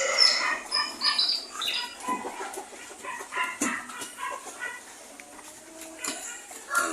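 Laying hens cluck and squawk in a farmyard, intermittent bursts of bird calls close by with a dog barking at moments, all mixed with background chatter and other fowl noises.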